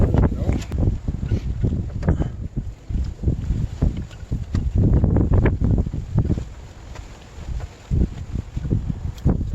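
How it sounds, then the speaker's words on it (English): Strong outdoor wind buffets the microphone in loud, rumbling gusts that continue the whole time, with a voice heard intermittently underneath. "it's getting really windy out here and cold"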